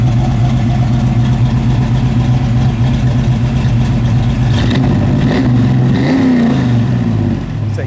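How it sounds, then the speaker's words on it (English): A 1973 Camaro restomod with exhaust cutouts closed, its engine idling with a loud steady rumble, then briefly revved partway through before settling back, heard close up. "I'm gonna rev it up just a little bit, Dalton."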